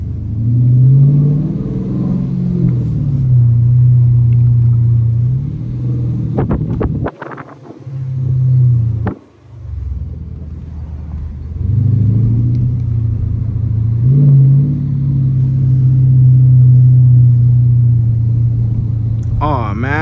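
A Dodge Challenger RT engine rumbles loud and close from inside the car, its tone rising and falling through repeated revving pulls, with brief drops where the engine note cuts out between them.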